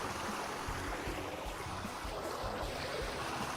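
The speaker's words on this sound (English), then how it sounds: "This is a very loud waterfall" A very loud waterfall in the video game Vintage Story, a dense continuous rushing roar of falling water that stays steady and fills the whole scene with no talk over it.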